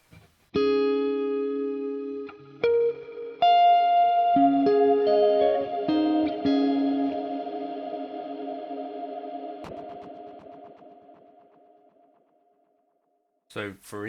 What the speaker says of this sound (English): More traditional shimmer sounds.